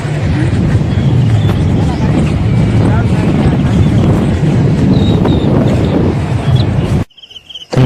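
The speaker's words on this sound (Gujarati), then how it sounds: "એવો ટાઢો પવન આવે છે" Cold wind roars across Ucha Kotda beach in a loud, steady buffeting rush, briefly cutting out near the end before returning.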